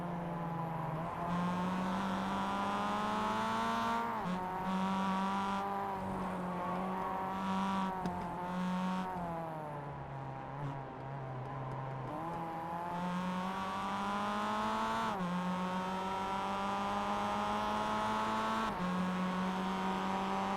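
Mazda MX-5 race cars at Summit Point Jefferson during a race incident with one car spinning, a steady droning engine whine that rises and falls in pitch with repeated shifts, heard from a distance, continuous and fairly quiet.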